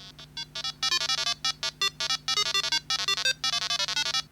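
A patched custom ROM phone plays ringtones in rapid bursts of bright, complex-sounding monophonic beeps, with brief pauses between phrases and a steady low hum beneath.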